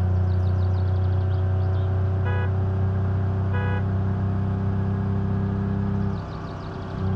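Moskvich car engine in the BeamNG driving game, a steady droning hum at constant pitch, with faint intermittent whirring beeps and a slight drop in level near the end.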